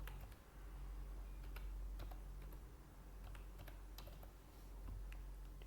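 Keys tapped on a computer keyboard during Excel data entry, faint irregular clicks in a quiet room, with no one speaking.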